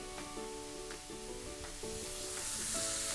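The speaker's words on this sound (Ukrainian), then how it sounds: "Тут все смажиться, черга грибів." Mushrooms fry in a pan with a constant soft sizzle and hiss beneath occasional scraping and tonal clinks.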